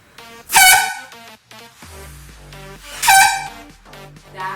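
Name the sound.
homemade plastic bottle and PVC pipe air horn blast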